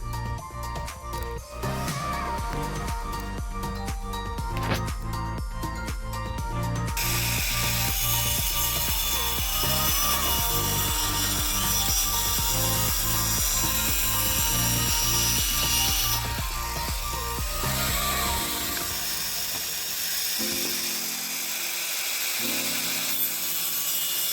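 Makita sheet cutter slicing through a metal sheet, a loud close rapid mechanical chatter that runs continuously and then changes tone near the end, with no talk.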